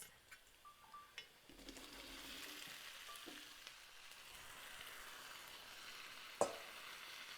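Potatoes stirred into a pan of softened onions, minced garlic and oil, with a quiet ongoing sizzle, occasional soft scrapes and one sharp clack of a utensil against the pan near the end.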